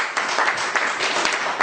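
Applause and clapping from a live audience at a lecture and music event, a short steady patter of many hands with no speech over it.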